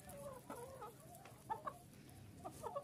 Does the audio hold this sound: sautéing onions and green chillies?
no